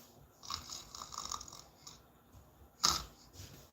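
A person imitates snoring with their voice, giving a few soft, rasping breaths and then one louder snort, quiet and close.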